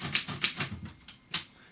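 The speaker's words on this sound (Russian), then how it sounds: "И машинка печатает вторым цветом." Wartime Continental typewriter typing in its second ribbon colour, a few sharp key strikes close up, spaced irregularly, with light mechanical rattle between them.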